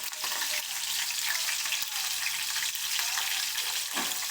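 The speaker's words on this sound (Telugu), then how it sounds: "దాంట్లో మనం పచ్చిమిర్చి వేసి సుయ్ సుయ్ సుయ్ అంటుంది అనమాట" Green chillies fry in hot oil, a steady close sizzle with a soft, even hiss throughout and no talk over it.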